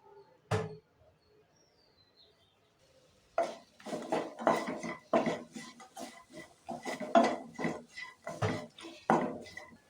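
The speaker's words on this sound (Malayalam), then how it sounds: "ഒരു ടീസ്പൂൺ ലെമൺ ജ്യൂസും ചേർത്ത് നല്ലോണം മിക്സ് ആക്കി എടുക്കാം." A spoon rapidly clatters and scrapes in a pan while onion rice ingredients are mixed with lemon juice, starting with one isolated knock, then a pause, then a busy run of repeated metallic strokes.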